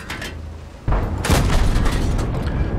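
Tank cannon fire in a tank battle game with a Cromwell and a Covenanter, a sharp boom followed by a rolling burst of gunfire and rumble.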